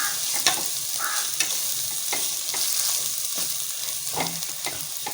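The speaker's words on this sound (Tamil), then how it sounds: "இந்த எண்ணெயில் லேசாக ஒரு வதக்கு வதக்கிட்டு இந்த எண்ணெயில் போட்டோம்னா அந்த கலர் கொஞ்சம் நல்லா வரும்" Ingredients for chicken biryani sauté in hot oil, giving a steady close sizzle broken by repeated scraping stirs of a spoon against the pan.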